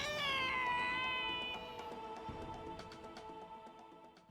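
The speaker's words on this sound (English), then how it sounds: "Mangy cat." A cat meows in the Dragon Quest Treasures video game, one drawn-out, wavering mew that starts loud and close, then fades and trails off.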